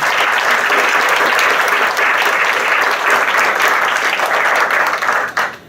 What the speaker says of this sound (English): Put a round of applause for our first responders.